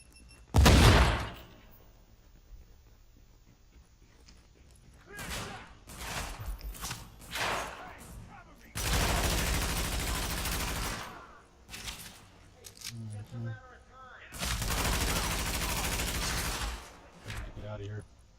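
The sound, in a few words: gunfire in video game Tom Clancy's The Division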